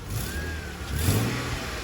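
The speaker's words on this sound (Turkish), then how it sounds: "Arabanın motor sesi falan gayet sağlıklı." Car engine running in a project car: a steady low mechanical hum with a slight swell partway through, moderately quiet with background noise and no talking.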